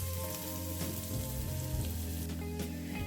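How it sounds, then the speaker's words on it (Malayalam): Onion, green chili, ginger and garlic sautéing in oil for a dal curry, a steady low sizzle running throughout with faint stirring, close and moderately quiet, no voices. "പിന്നെ സവാള, പച്ചമുളക്, ഇഞ്ചി, വെളുത്തുള്ളി ഇട്ട് വഴറ്റിയെടുക്കാം."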